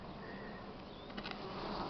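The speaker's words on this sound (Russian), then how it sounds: "Ой, сколько тут пчелок" Many bees buzz around an open beehive, a dense continuous drone close by, steady throughout with no voices.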